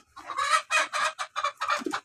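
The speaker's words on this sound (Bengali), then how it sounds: "আরে মুরগিটা তো অনেক বড় হয়েছে রে" A large native village chicken clucks in a quick run of about seven close, loud bursts, with no voices.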